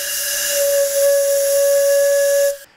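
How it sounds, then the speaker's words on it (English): A single steady, breathy whistle tone from air blown over a test tube holds at one pitch for about two seconds, then cuts off abruptly. "blow air over this test tube at just the right speed, you can get it to make a whistle sound"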